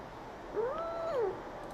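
A single cat meows once, a clear rising-then-falling call heard alone against a faint hum.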